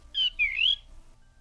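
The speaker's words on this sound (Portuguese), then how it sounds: "E o passarinho só cantando." Small bird in the Book of Unwritten Tales 2 video game chirps a brief high whistle, then a longer rising and falling warble, clear and fairly close over a faint low room hum, with nobody speaking.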